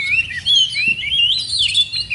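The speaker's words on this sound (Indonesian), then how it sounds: "ini salah satu contoh kacer yang pada saat digantangkan ini bermain dengan birahi" A caged oriental magpie-robin (kacer) sings loud, close and continuous, with varied high whistles and chirping phrases over a quiet background.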